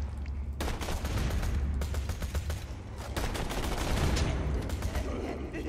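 Gunfire from a Borderlands 2 Mechromancer playthrough crackles in repeated sharp bursts over a low rumbling game backdrop, the shots coming in irregular clusters throughout.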